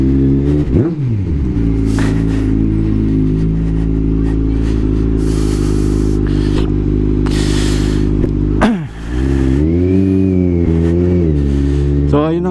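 A Kawasaki Z900 motorcycle engine revs up twice, with a loud, steady, rich engine tone between the two throttle blips. The engine is near and continuous throughout.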